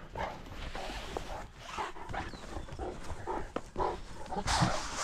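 A livestock guardian dog on a farm rescue makes rough, growly huffs and snorts close by, irregular and moderately loud, amid handling noise and rustling.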